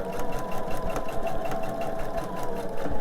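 A sewing machine stitching fabric seams for a rock candy quilt, running in a steady, fast mechanical whir with rhythmic needle ticking, close and continuous throughout.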